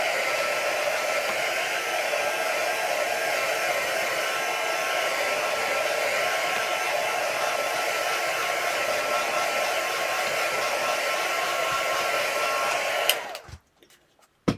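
A heat tool runs steadily and fairly loud, blowing to dry paint on a mixed media piece, then cuts off near the end, leaving near silence and a faint click.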